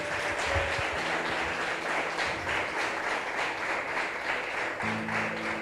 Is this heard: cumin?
no